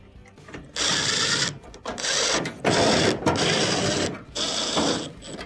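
Power screwdriver driving screws into a dryer back panel, four separate whirring bursts of roughly a second each with short pauses between, close by and fairly loud.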